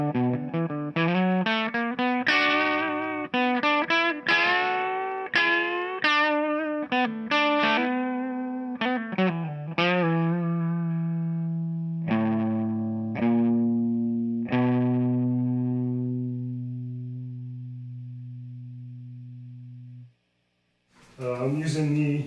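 A 2015 Gibson Les Paul Traditional on its bridge pickup, driven through the grit distortion of a Pigtronix Philosopher's Twin, plays a run of quick distorted notes and chords, then lets two long notes ring and fade before a final strum.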